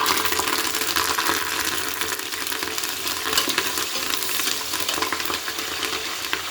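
Onions, curry leaves and green chillies fry in hot oil for a prawn biryani, giving a dense, steady close sizzle with no talking.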